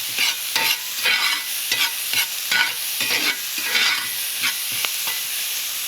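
Crushed garlic and onions sizzle and crackle on a hot grill, with repeated stirring scrapes and bursts of frying noise over a steady hiss, close and fairly loud.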